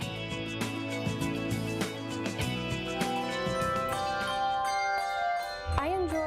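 A handbell choir plays together, layering several ringing bell tones into sustained, overlapping chords with repeated strikes across the passage, and a faint voice shows up near the end.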